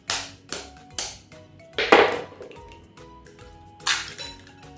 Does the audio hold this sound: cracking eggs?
yes